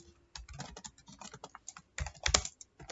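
Rapid clattering keystrokes on a computer keyboard while C code is typed, coming in quick uneven bursts with brief pauses, close and fairly loud, with no talking.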